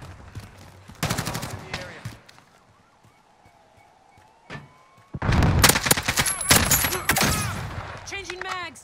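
Call of Duty: Modern Warfare gunfire on the St Petrograd map comes in two loud, sharp volleys of rapid shots separated by a quieter gap with ambient tones and a voice.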